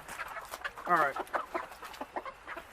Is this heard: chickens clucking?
yes